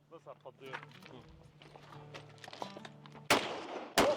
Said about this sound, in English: Shooting is fun, and so we decided to have a little friendly competition.